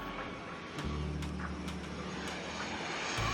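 An airplane sound effect in a children's cartoon: a continuous engine drone and whoosh heard alone for a few seconds, fairly loud and steady.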